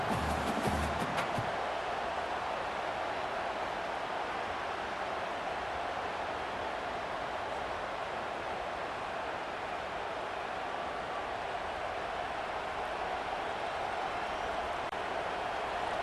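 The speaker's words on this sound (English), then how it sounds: "And this crowd coming to life here, trying to help the defense get a stop with the offense pinned back." Stadium crowd noise in the EA Sports College Football 25 video game, a dense, steady roar of cheering that holds evenly for about sixteen seconds, with no voices standing out.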